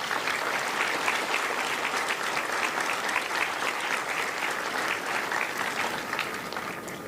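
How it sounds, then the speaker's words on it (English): Steady, sustained applause from a large crowd at a Marine Corps recruit graduation ceremony at MCRD San Diego, a dense even patter of clapping that continues without a break throughout. "Please join me in a round of applause"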